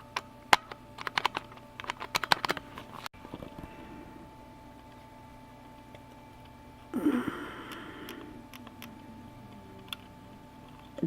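Keys on an IBM Model F keyboard being clicked and fiddled with during a rebuild: a rapid burst of sharp, close clacks at first, then a quiet stretch with a muffled rustle of handling partway through.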